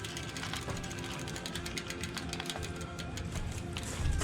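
A bicycle derailleur ratchets through the gears as the wheel turns, giving a continuous close-up clicking and whirring mechanical rattle with steady rhythmic ticks throughout.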